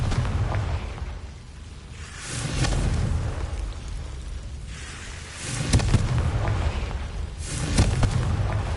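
Booming blasts from the Confringo explosive spell in Hogwarts Legacy, several heavy low bursts spaced a few seconds apart with rumbling crackle between them.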